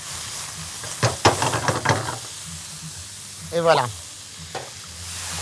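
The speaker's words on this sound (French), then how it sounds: "Juste poêler" Ginger, pepper and salt pan-frying with a steady sizzle while being stirred, with brief utensil scrapes and a short spoken phrase partway through.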